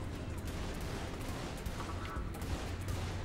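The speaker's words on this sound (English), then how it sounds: "Okay, that was an explosion." Explosions and gunfire rattle through a Saints Row: The Third game session, dense bursts of crackling blasts in quick succession, fairly faint and continuous.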